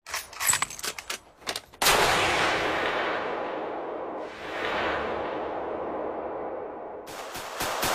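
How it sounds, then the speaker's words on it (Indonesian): Anime gunfire: a panicked character shoots back in a rapid burst. Quick sharp shots crack first, then a long loud roaring blast rumbles on and swells again before a few more sharp bangs close it out. "Tony Anji yang panik membalas tembakan secara beruntun"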